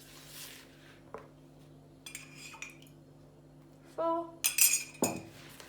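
A spoon clinks and scrapes against a bowl while salt dough is mixed, several scattered light taps and a louder rattling burst near the end, with brief speech.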